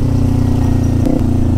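A Kawasaki Ninja 400 motorcycle ridden through a river, its engine a steady close, low throbbing drone with a brief dip in pitch partway through.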